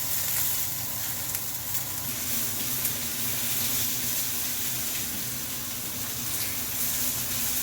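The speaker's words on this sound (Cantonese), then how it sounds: "芫茜成條咁抌落去，繼續爆香佢" Whole coriander stalks stir-fry in a hot wok with a steady, fairly loud sizzle and hiss and a few faint scrapes, with no one speaking.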